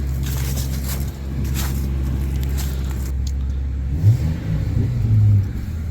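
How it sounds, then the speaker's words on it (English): Engine of a 2004 Honda Accord with a no-start problem, being revved and held near 2,000 RPM while charging, a loud steady drone with a couple of brief rises. "Go give the truck some RPMs for a little bit."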